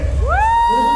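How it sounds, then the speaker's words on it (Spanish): A crowd at the Olympia Hércules 2023 bodybuilding competition in Querétaro cheers, with one loud rising whoop standing out over the general noise. "Un aplauso, por favor."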